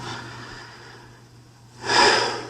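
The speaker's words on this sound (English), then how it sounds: "See? The heavy breathing." A single loud, close breath burst near the end, after a stretch of quiet room noise with a low hum.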